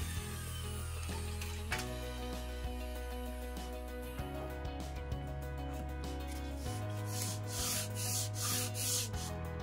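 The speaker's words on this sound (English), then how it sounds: "This block of wood will keep the sandpaper flat, and it will help keep the wood flat." Sandpaper wrapped around a wooden block rubs back and forth across a glued wood joint in close, steady strokes with short pauses between passes.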